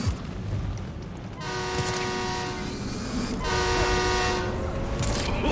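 Train horn blasts twice from a passing train in the video game Gotham Knights, long sustained tonal honks over steady rumbling rail and ambient game noise, fairly loud and close.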